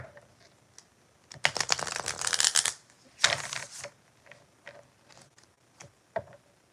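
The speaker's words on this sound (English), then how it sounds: "Let me shuffle different." Tarot-style cards are shuffled during a live stream, giving a couple of short riffling bursts followed by scattered soft taps and flicks, close and fairly quiet.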